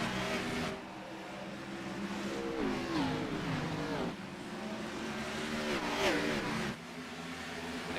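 eNASCAR sim race cars of a Touring Kart league at a virtual Bristol track, engines revving hard at a restart in rising and shifting waves, a continuous loud pack roar with gear changes.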